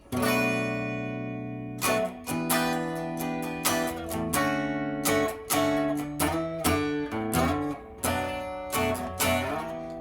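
Guitar playing a looping verse chord progression, with strummed chords and sliding octave notes, clear and close with no voices.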